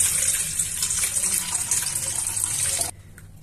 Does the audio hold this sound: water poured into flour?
yes